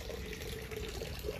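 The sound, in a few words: water flowing into a tilapia tank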